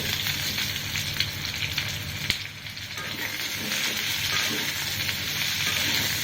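Onion frying in a pan for a soya chunks masala curry, a steady broadband sizzle that holds throughout at close range, with one brief sharp crackle partway through and no talk.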